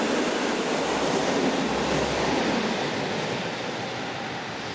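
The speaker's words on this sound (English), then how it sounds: "150065 descends the grade on a northbound army special." Locomotive 150065 hauling a northbound army special train downhill on a grade, a steady broadband rumble and rush of rolling wagons, loud and close, holding constant throughout without voices.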